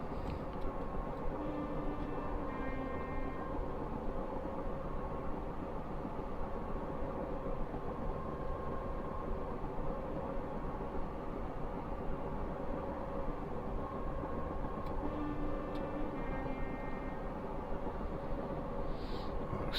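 A Class 402 2-HAL electric train in Train Simulator Classic runs at 80 mph: a steady, loud rolling rumble and wheel roar fills the whole stretch, with faint rhythmic clicks over rail joints.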